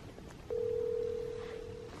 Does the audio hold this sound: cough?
no